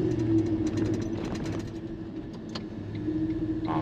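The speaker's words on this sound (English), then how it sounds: "I don't know if you can hear that, but you can hear the engine braking working." A 79 Series with an 8-speed transmission conversion engine-brakes while downshifting, giving a steady low engine drone with rhythmic pulsing and small shifts in tone, heard close from inside the cab.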